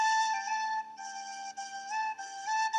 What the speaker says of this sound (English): And I will play the silver whistle.